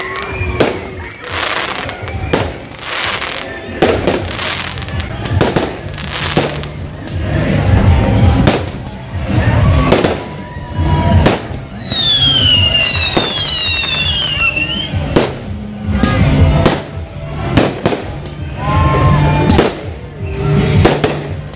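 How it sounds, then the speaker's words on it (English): Fireworks explode at a Bangladeshi New Year carnival near Flinders Street Station, with bumper cars and games nearby. Dense, continuous crackles and bangs carry on throughout, with whistling rockets rising partway through over a loud crowd. "and fireworks."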